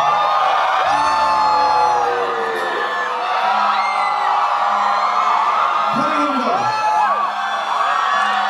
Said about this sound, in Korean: 미친 함성 소리